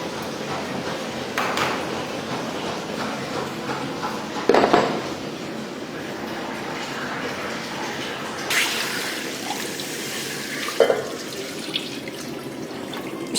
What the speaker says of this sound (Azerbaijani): Üstünə çıxana qədər su tökdük.